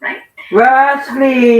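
A pet dog lets out a short bark, then a drawn-out, loud whining howl right beside the microphone, with a person speaking briefly over it.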